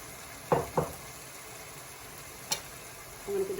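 A spoon scrapes and stirs lamb keema and peas in a frying pan over a gas flame, a few short clattering strokes over a faint steady sizzle.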